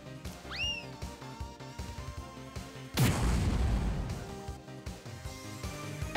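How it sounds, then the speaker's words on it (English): An impact bomb attack in Grandia II lands as a sudden heavy boom followed by a crackling, rumbling decay, after an earlier rising whistle-like effect over ongoing game music. "Here goes my impact bomb"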